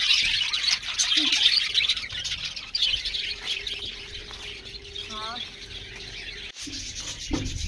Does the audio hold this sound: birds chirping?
yes